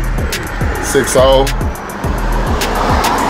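A 1972 Ford LTD convertible fitted with an LS2 6.0 V8 idles and revs nearby, a throbbing low rumble with a brief rise in pitch midway, while someone talks over it.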